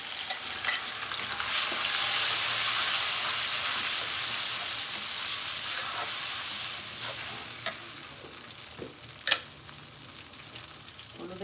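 Onions fry in hot oil with ginger and garlic stirred in, giving a loud steady sizzle and hiss with scraping stirring strokes and occasional sharper clicks.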